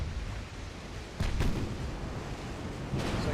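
Warship secondary guns fire during a battleship duel in the naval game Ultimate Admirals: Dreadnoughts, giving a few dull, distant booms spaced through a low, steady background rumble.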